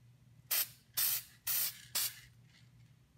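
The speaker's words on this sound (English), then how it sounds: "So you just spray some light coats of this" Four short aerosol spray bursts hiss out in a steady rhythm, each about half a second, close and loud over a faint low hum.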